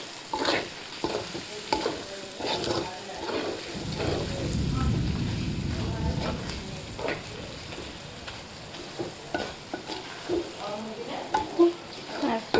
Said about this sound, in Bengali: এটা জাপানি মাছ ভর্তা করার জন্য ভেজে নিচ্ছি